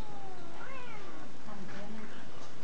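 A cat meows in distress while being grabbed and handled by a monkey, with several rising and falling cries over a couple of seconds amid faint background talk.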